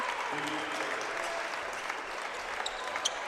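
Home crowd at a boys' high school basketball game applauding in a gym, a steady, moderately distant wash of clapping with a few sharper claps near the end, faint and continuous throughout.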